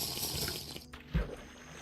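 Running water in the Minecraft mod TerraFirmaCraft, a soft continuous splashing and trickling flow at moderate volume with a small splash partway through. No one talks.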